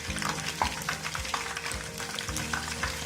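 Chicken tempura strips fry over a low flame in oil, giving a quiet, continuous crackle and sizzle with light stirring clinks and occasional soft pops as pieces are turned.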